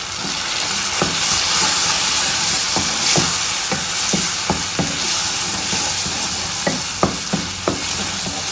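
Green chilli thecha paste fries in a pan on a low flame with a steady, dense sizzle and hiss, broken by sharp clicks and taps of a stirring spoon against the pan, close and continuous.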